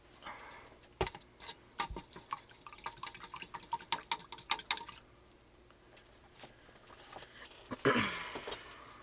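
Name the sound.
paint brush being rinsed in water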